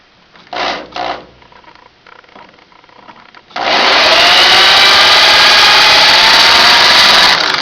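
A drill spins a 9x18 Makarov brass cartridge case against a trimmer to cut about 1 millimeter off. A couple of short bursts come first, then a loud, steady grinding whir from about halfway through to the end, with no talking.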